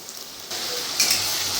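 Garlic frying in hot oil for a chicken curry, a soft steady sizzle that grows a little louder midway, close and alone with no talk.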